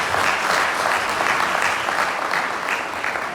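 An audience applauds steadily throughout at a school award ceremony for a knowledge competition, dense clapping that stays loud and even with no break.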